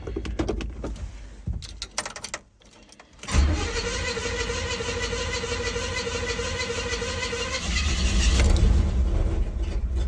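A 1971 Chevy C10 small-block V8 with a freshly replaced manual fuel pump and a troublesome carburetor cranks and catches, then runs on loudly and close after a brief lull.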